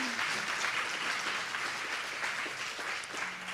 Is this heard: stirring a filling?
no